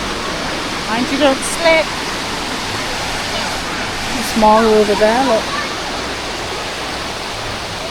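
Rushing water of Hotnitsa Waterfall in Bulgaria, swollen after heavy rain, pours as a steady, close broadband roar through the whole stretch, with people talking briefly over it.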